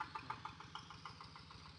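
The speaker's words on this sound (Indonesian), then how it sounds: "traktor sudah mulai bekerja" A tractor engine working a flooded, loosened rice field with a harrow, running as a steady mid-pitched rumble with regular rapid knocking pulses, fairly near and continuous, with no talk.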